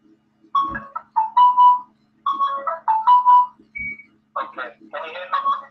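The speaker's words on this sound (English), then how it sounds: "You're dialing my phone." Phone keypad tones are dialed during a call, a close series of short, bright electronic beeps in quick clusters with brief pauses between them.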